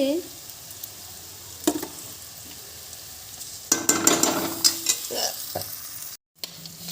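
Spices go into a frying desi chicken curry with a soft crackling sizzle, broken by bursts of spoon scraping and stirring against the pot, moderately loud, with a brief silent gap near the end.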